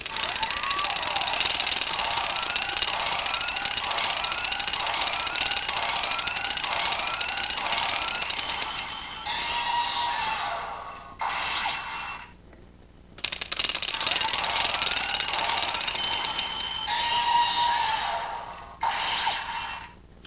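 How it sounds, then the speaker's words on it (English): A Samurai Gattai Kyoryu Maru toy running at higher speed emits an electronic, rattling, jackhammer-like sound effect, a dense buzzing pattern repeating over about twenty seconds with brief pauses between cycles. "With the Kyoryu Maru, it only plays one sound effect."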